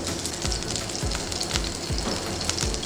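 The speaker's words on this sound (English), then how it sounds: "Now we want to cook the sausage until it's really browning." Sausage frying in a pan, a loud, close, steady sizzle with soft stirring scrapes at regular intervals and no voices.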